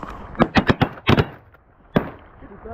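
Shotgun blasts during a Canada goose hunt, a quick volley of about six loud booming shots from several guns, then a lone final shot after a short pause.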